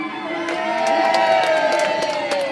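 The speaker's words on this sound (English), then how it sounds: "the crowd cheered" A crowd cheers loudly and steadily at a contest announced by a king, the sound a sustained mass of voices with whoops and a few claps scattered through it.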